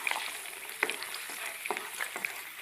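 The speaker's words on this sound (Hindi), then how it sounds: "अब मैं इसके अंदर ये प्याज डाल दूँगा और मैं इस प्याज को फ्राई कर लूँगा।" Onions frying in hot oil in a kadai give a steady crackling sizzle, broken by a few sharper stirring scrapes and pops, with no talking.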